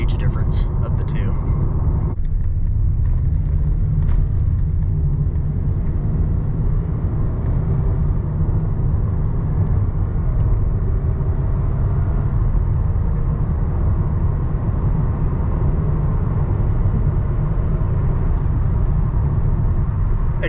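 2009 Lexus ES350 with a 3.5 liter V6 accelerating on the road, a steady smooth low rumble of engine and tire noise under a calm speaking voice, with a few brief clicks near the start.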